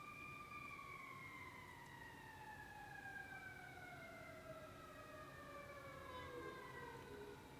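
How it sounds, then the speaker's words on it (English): An emergency vehicle siren wails outside, its long rising and falling tones sweeping slowly and steadily, faint and distant beneath a constant background hiss, with no voices. "can you guys hear that siren outside?"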